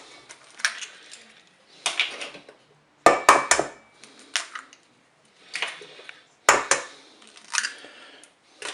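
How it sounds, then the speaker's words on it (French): Eggs cracked against a bowl rim for a lemon cake, several sharp close taps and brief crunching shell breaks in an irregular rhythm, with quiet gaps between them and no talking. "On va casser les œufs."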